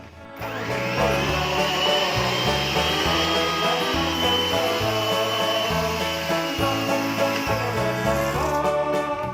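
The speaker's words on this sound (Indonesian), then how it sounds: "Ini akan saya mixer sekitar 5 hingga 10 menitan dengan kecepatan sedang." An electric hand mixer beats cucur batter at medium speed, a steady loud motor whir with a rhythmic, slightly rattling churn as the beaters work through the batter, running throughout.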